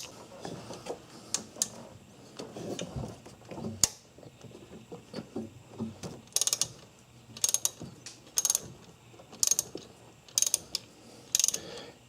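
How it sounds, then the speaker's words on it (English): A 10mm socket ratchet works a bolt on a Ford Escape engine. Quick bursts of loud, close clicking repeat at a steady pace, mixed with clanks and handling noises. "this bolt right here, 10mm socket, will take care of that for you. And we'll go ahead and we'll break it loose"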